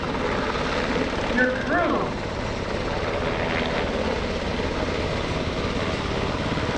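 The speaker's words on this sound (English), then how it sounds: "The helicopter's back into place." A UH-60 Black Hawk helicopter at an airshow drones steadily with a dense rotor and engine roar, while an announcer talks over it.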